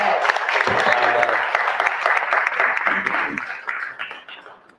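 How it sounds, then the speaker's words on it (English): Applause from an election night event crowd in Washington D.C., a dense, close burst of clapping that slowly thins toward the end, with voices mixed in under it. "Round of applause."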